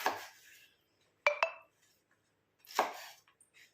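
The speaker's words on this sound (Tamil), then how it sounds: "இதையும் வந்து கொஞ்சம் குட்டி குட்டியாக கட் பண்ணிக்கலாம்." Ridge gourd is cut into small pieces as a few quiet, separate scraping strokes, with one sharp clink of a knife against a board or dish between them, close and isolated with nothing else sounding.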